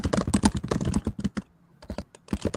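Laptop keyboard clicking, a quick irregular run of loud, close clacks that pauses briefly before resuming.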